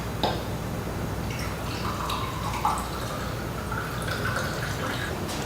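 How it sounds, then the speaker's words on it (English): Vodka and lime juice pour from a mixer into a shot glass, a thin trickling, dripping stream heard close and fairly quiet for several seconds, with no talking. "So now I'm going to pour it in to the shot glass."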